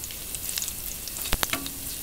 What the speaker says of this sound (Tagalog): Hintayin natin na mag-brown ng garlic.